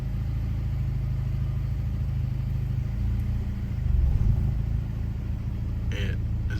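Low engine rumble from a VW Tiguan fitted with a swapped DQ250 DSG gearbox as it creeps forward under its own power, with a steady idle drone, a slight swell midway and a brief clatter near the end.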